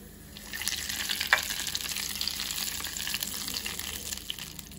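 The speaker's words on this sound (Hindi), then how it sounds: "और बस ये तड़का हम डाल देते हैं अपने दाल पालक पर।" A steady hissing sizzle of hot tempering oil with red chili powder poured onto dal palak, broad and continuous, close by with no talking.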